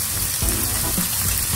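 Garlic frying in a soup pot gives off a steady, dense sizzle, close and continuous over a couple of seconds with no talking.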